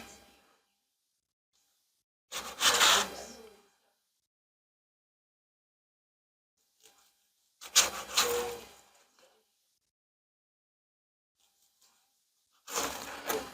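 A knife slicing through a cooked hot garlic honey turkey breast, heard as three separate close rasping strokes a few seconds apart with quiet pauses between them.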